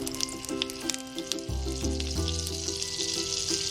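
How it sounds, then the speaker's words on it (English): Butter melts and sizzles in hot vegetable oil in a pan before tofu, broccoli and onions are stir-fried, giving a continuous close frying hiss with a low hum joining partway through and no talk. "We're going to start by putting some vegetable oil, and then we're going to hit it with some butter."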